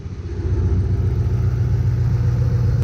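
A 2005 Ford Mustang GT, a rebuilt salvage car, idles loudly and steadily close by, its engine putting out a deep rumbling pulse with no voices over it.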